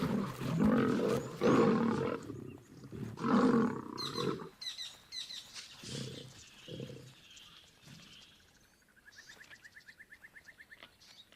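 Male lion brothers fighting in the wild, with loud, close snarling roars and growls in bursts, then quieter grunts fading, and a rapid chirping bird call near the end.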